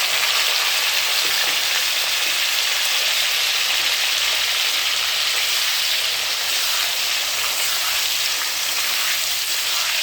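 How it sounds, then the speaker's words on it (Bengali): Fish curry with onion and tomato fries and bubbles in a pan, producing a dense, steady hiss and sizzle that stays loud and even throughout, with no talking. "এই যে মাছের ঝোলটা ফুটে গেছে, মাছটা দিয়ে দিই।"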